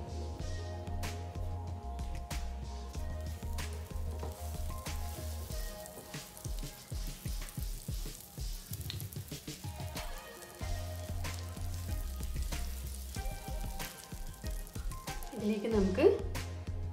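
Butter and sunflower oil sizzle in a pan with a light, crackling hiss. The sound stays steady at low level and is partly under a speaking voice with a low background hum.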